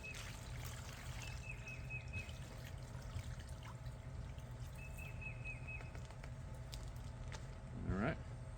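Curing brine is poured over a pork butt inside a Ziploc bag, making a steady, continuous liquid pour and trickle throughout, with a brief squeaky chirp near the end.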